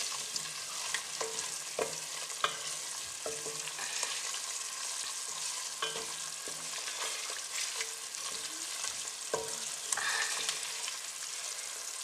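Beef pilau is stirred and sizzles in a pot, with a steady frying hiss and repeated knocks and scrapes of the spoon against the pot.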